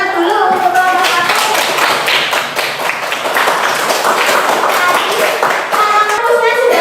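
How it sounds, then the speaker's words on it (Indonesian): A classroom group claps for a student group after their presentation, a loud, close burst of fairly rapid, uneven hand claps that swells and dips slightly over several seconds, with a little background chatter. "Kita beri tepuk tangan dulu untuk kelompok satu"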